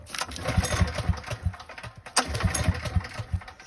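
A small generator engine with a broken recoil pull cord chugs close by in steady rhythmic pulses, loud and unbroken, with no voices over it.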